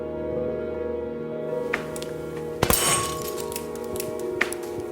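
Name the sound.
glass container bursting, shards flying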